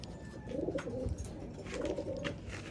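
Pigeons during recall training: soft low cooing and rustling from nearby birds over a steady outdoor background hiss, with no talk.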